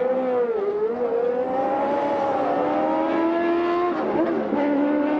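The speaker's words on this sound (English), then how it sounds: "the roar of that engine as Fittipaldi comes back to the fight" An IndyCar race car at the 1991 Indianapolis 500 roars away from its pit stop, a loud, sustained engine whine climbing in pitch, dipping briefly near the end and then rising again, with crowd and track noise beneath.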